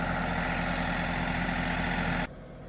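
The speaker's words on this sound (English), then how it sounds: "It's a sweet tractor. It's a foot-fed hydrostat." Steady, loud engine idle from a foot-pedal hydrostatic-drive tractor, a continuous low rumble heard close up with no talk, cutting off abruptly near the end.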